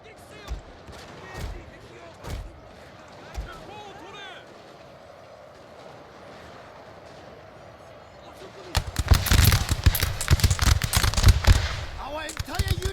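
Army units in Shogun 2: Total War fire a volley, a dense crackling burst of musket shots after quieter scattered single reports and battle ambience, with a voice speaking over the start.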